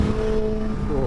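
A superbike engine pulls hard at about 70 mph and 4,500 rpm: a steady, close, droning tone with a slight rise in pitch at the end, running under faint voices.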